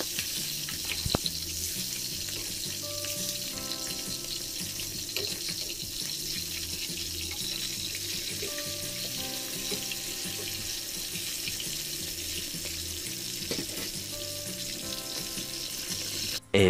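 Pieces of grouper (lapu-lapu) fish fry in oil in a pan, giving a continuous wet sizzle and crackle with occasional clinks of a utensil, close and steady throughout with no talking.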